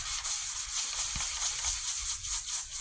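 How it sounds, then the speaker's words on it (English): A sanding block rubs steadily across a black-painted aluminum can, a soft continuous scratchy rasp with no talking, faint and close. "And sand it off."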